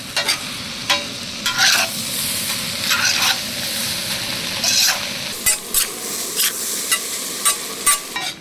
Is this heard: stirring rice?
yes